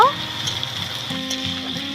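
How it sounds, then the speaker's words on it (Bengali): Thin-sliced potatoes are added to dheki shak greens frying in a pan and stirred, giving a short steady sizzle with light scraping and stirring knocks. "দুটো মাঝারি সাইজের আলু সরু সরু করে কেটে নিয়েছি দিয়ে দিচ্ছি এবার সব কিছু খুব ভালো করে নেড়ে নেব"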